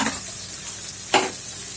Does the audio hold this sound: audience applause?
no